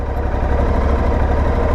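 Aprilia Tuareg 660 motorcycle engine idling close by, a steady low rumble with an even pulse that holds without a break and with no talk over it.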